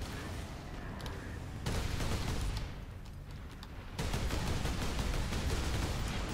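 Constant dense gunfire in the Space Marine video game, a dull, distant rattling barrage that swells louder in bursts and never stops.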